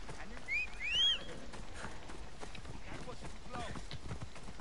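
Rapid hoofbeats of a galloping horse in the video game Assassin's Creed Odyssey patter along steadily under sporadic talk, with a couple of rising whistle-like tones early on.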